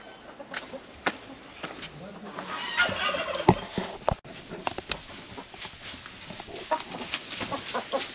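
Chickens, including black hens, cluck and squawk inside a small henhouse with a rooster, with scattered calls near and far, sharp clicks and scratching, and a person talking at times.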